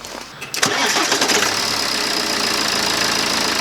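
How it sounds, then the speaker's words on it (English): A car engine cranks briefly, catches and settles into a steady, loud idle after a fresh oil and filter change, close by with no talk. "crank the engine over for a minute or two"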